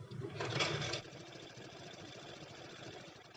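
A sewing machine stitches a pleat on a cotton nighty, opening with a brief louder burst of running and then settling into a soft, steady whir, faint and close.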